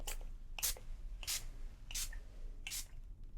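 Five short hissing spray bursts from a spray bottle, evenly spaced about two-thirds of a second apart, close and soft against a quiet room.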